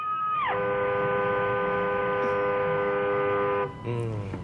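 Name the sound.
car horn honking loudly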